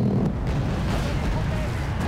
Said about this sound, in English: Two of the missiles actually flew too close together, so one missile's explosion took them both out.